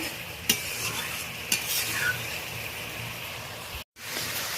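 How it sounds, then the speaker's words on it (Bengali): Spice paste cooked with four ground spices and a little warm water simmers in oil in a pan for an egg bhujia, a soft continuous sizzle broken by two sharp spatula knocks, then a brief silence. "মশলাটা ভালোভাবে কষানো হয়ে গেছে।"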